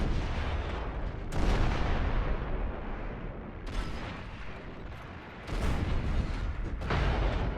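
Heavy World War I British artillery shelling German lines: continuous dense rumble of booms with several loud blasts standing out, sustained and powerful throughout with no voices.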